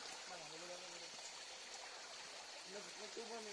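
A small cold river beside a chayote farm flows in a soft continuous trickle, faint and steady beneath a person talking nearby.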